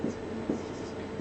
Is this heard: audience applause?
no